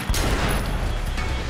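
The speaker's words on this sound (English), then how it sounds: "I'm gonna shoot." Gunfire in the Triad Wars (Sleeping Dogs) video game: a loud burst of rapid shots blending into a dense, roaring wash of noise over a short span.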